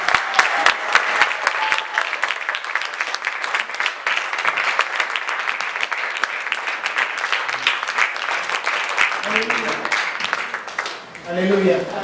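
A church congregation claps loudly and continuously, with sharp individual claps near at hand. Voices rise briefly toward the end as the applause fades.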